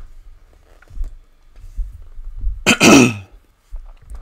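One short, harsh throat clearing from a throat still rough after a cough rises abruptly from near silence, close and loud, with faint rustling before and after.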